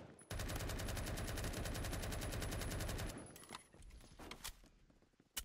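Rapid automatic gunfire in the video game Phantom Forces rattles out in a fast, loud continuous burst for about three seconds, followed by scattered single shots and clicks that trail off more quietly.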